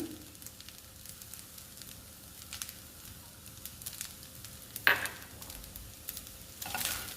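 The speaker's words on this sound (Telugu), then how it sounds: "ఇప్పుడు పుదీనా వేసుకుందాము కొత్తిమీర వేస్తున్నాను" Mint and coriander leaves tossed into a hot pan for egg rice, a quiet steady sizzle with light stirring scrapes and a couple of sharper crackling bursts close by.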